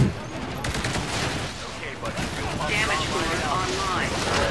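Sustained gunfire from the Titanfall video game, a dense continuous rattle of shots with crackling impacts filling the whole stretch, steady and loud without pause.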